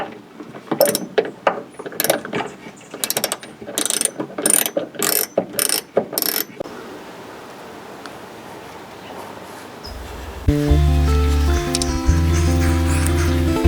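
Ratcheting, clicking turns of a screw being driven into a new light base on a Morris Minor, a run of sharp close bursts over about six seconds, then quiet, then a steadier mechanical whir near the end.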